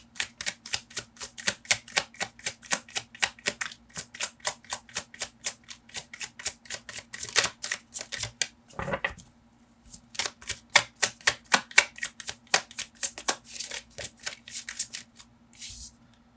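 Tarot cards shuffled by hand in rapid, even riffling bursts, close and crisp, with a brief pause near the middle before the shuffling resumes, then a card drawn at the end.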